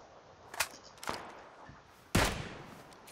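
Several sharp gunshots in PUBG, spaced irregularly, the last one louder with a short tail, set against quiet background noise.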